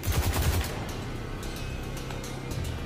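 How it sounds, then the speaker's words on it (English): A short burst of rapid gunfire in Destiny 2, loud and close at the start, then fading into a low rumbling background. "I'm shooting at my shadow."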